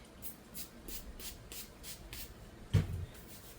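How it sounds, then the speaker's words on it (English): A few quick hissing sprays from a pump bottle of braid spray wetting hair in a quiet room, followed by a soft thump of handling. "I'm going to wet it a little bit with my braid spray."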